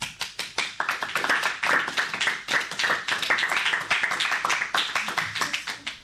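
An audience applauds children after their Sanskrit recitation at a school programme in Bikaner, with steady, dense clapping from many hands that starts as sparse claps, stays full throughout and thins slightly at the end.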